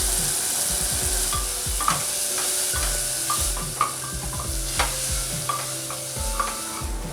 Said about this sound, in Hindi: मसाले से ऑयल अलग होने लगा है, यानी मसाला भुन चुका है।